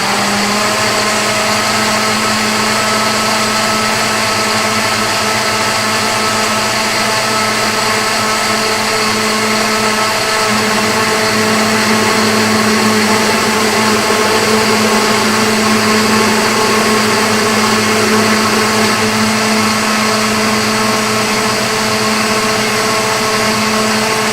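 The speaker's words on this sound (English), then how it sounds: "All right, so all I'm gonna do is turn our blender on." A blender runs continuously, blending tomato soup made with half milk and half cream, a loud steady whir with a constant motor hum throughout, near and alone.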